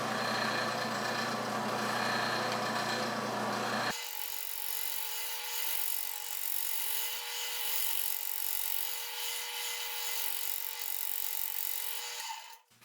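A wood lathe turns steadily while a tool scrapes and cuts the outside of an elm bowl continuously, a harsh broadband rasping that shifts tone partway through and stops abruptly at the end.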